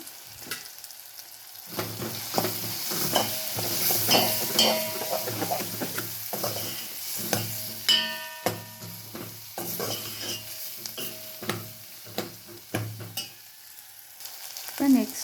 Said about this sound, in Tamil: வெங்காயம் தக்காளி பூண்டு இதெல்லாம் நல்லா மசிஞ்சிடுச்சு நல்லா சூப்பராக ஃப்ரை